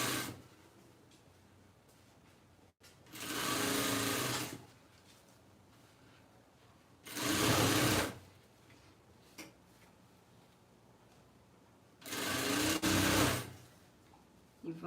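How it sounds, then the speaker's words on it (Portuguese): A sewing machine stitches fabric for an eco bag in three separate bursts of a couple of seconds each, a moderately loud whirring run separated by quiet pauses with faint clicks. "E vamos costurar."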